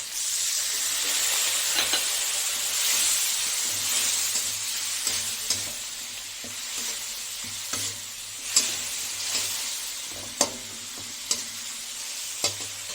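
Water splashed into a hot pan of vegetables for a light fish curry, bursting into a loud, bright hiss and sizzle that settles into steady frying with occasional spoon scrapes and taps, close up.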